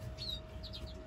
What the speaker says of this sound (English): that is this red-eyed satinette canary hen for the goldfinch mule pairing